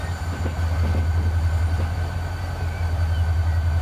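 A GP40-2 diesel freight locomotive in the game Transport Fever: a steady low engine drone with faint rail clatter, rolling continuously at a moderate, even level.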